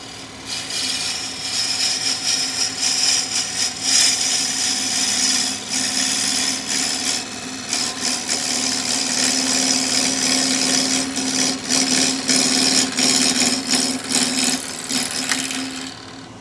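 A wood lathe turns a piece of ipe while a sharp gouge cuts into it, making a steady, close, continuous scraping hiss over a low hum for the whole stretch, with no voices.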